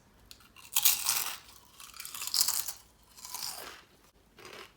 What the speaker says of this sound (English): let's eat some vodka flavoured crisps